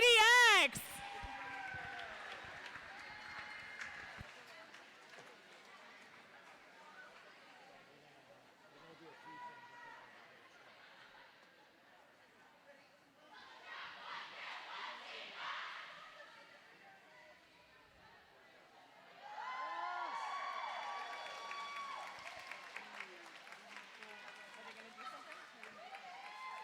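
Crowd at a roller derby bout cheers and applauds for the Cheer PDX cheer squad, with bursts of clapping and shouting that swell, dip and rise again over a steady murmur of crowd chatter.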